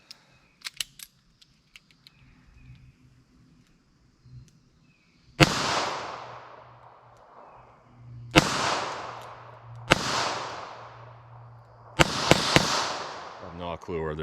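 Four loud, sharp .327 Federal Magnum handload pistol shots at an outdoor ballistic test, spaced a few seconds apart, each cracking and then ringing out in a decaying echo, with faint handling noise and brief voices before the first shot.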